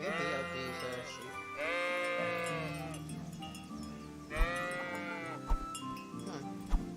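In the video game Kingdom Come: Deliverance, a few sheep give long, quavering bleats one after another. The calls are close and loud against a steady ambient bed, with a few soft knocks near the end.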